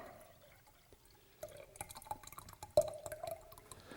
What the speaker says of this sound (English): Now we just need to add our yeast and liquid to each jar.